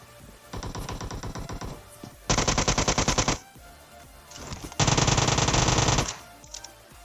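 Automatic gunfire in the mobile game PUBG Mobile, three loud bursts of rapid shots lasting about a second each, separated by short pauses.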